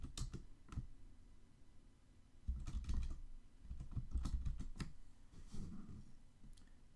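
Someone types on a computer keyboard in short, uneven bursts of quiet, close key clicks with brief pauses between them.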